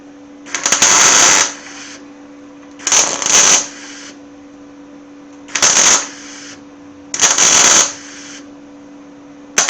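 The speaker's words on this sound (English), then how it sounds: "I'll put a couple more welds up in here" Four bursts of tack welding on the corner of a 1929 Chrysler window channel, each a crackling hiss lasting about a second, spaced evenly apart over a steady background hum.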